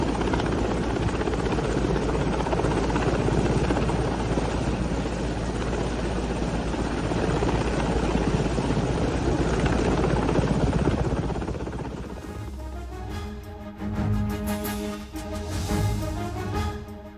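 An army helicopter flies during the rescue of four boys stranded on a height, its rotor chopping loud and steady for most of the clip before the sound thins and shifts near the end.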